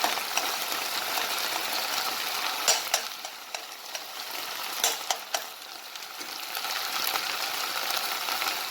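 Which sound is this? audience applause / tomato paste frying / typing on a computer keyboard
tomato paste frying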